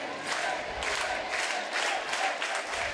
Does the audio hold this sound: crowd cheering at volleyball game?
yes